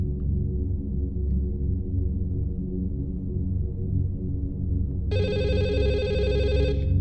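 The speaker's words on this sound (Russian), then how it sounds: "Так, телефон звонит," A telephone rings in the Chinese horror video game Firework, a bright electronic ring starting abruptly near the end over a steady low rumbling ambience, with no talk.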